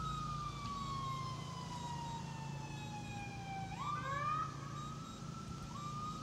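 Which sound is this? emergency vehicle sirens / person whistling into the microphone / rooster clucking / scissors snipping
emergency vehicle sirens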